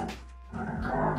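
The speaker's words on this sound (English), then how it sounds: "sorry for the dogs." Several dogs barking and yelping at each other while playing indoors, a burst of short excited barks and yips, then a rougher, louder growling vocal close by.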